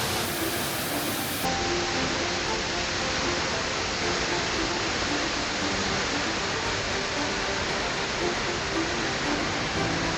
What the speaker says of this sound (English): The roar of the water, the spray on your skin